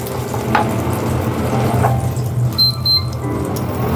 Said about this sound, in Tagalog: ihalo natin yung ating barbecue beef